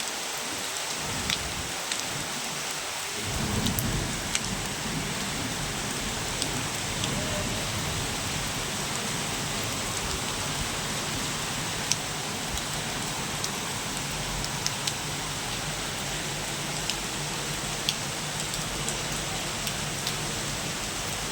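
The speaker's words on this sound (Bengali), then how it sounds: "প্রচণ্ড আকার বৃষ্টি হচ্ছে বৃষ্টি হচ্ছে দাঁড়িয়ে ভিডিও করা যাচ্ছে না" Heavy rain pours down on waterlogged Dhaka streets, a dense, steady roaring hiss that fills the whole stretch, with scattered louder drops and splashes over the constant downpour.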